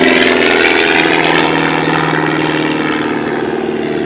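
A 180-horsepower Pitts aerobatic biplane's engine and propeller roar loudly and steadily during an evening airshow, heard close up from the aircraft, with the pitch and brightness easing slightly over several seconds.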